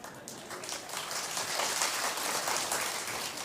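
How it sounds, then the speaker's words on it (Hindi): An audience clapping together in a room, a dense close burst of applause that swells and holds steady for a few seconds. "आनंद मिल रहा है तो ताली ऐसे बजाई जाती है।"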